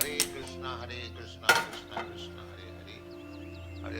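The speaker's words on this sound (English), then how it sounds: "Put the pan on fire" A metal pan is set down on a stove with a sharp clank, followed by lighter clinks and rattles of cookware, close by over a low steady hum.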